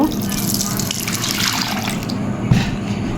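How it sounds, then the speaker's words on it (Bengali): Warm milk poured into a bowl of sour yogurt for sweet yogurt, a steady liquid gush and splash running throughout, close and fairly loud, with a slight thump near the end. "আমার দুধ রেডি এবার আমি ঢেলে দিব"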